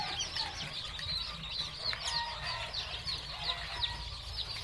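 A batch of about 400 hungry gamefowl chicks, tornado crosses among them, peeping and chirping continuously in a dense, busy chorus, with faint clucks from farm fowl nearby; no talking.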